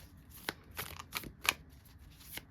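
A deck of oracle cards is shuffled by hand in a quiet room, making a series of crisp riffling snaps and flutters at irregular intervals, close and fairly soft.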